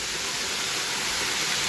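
Okra fries in oil with a steady, close hiss that stays even and fairly soft, with no voices over it.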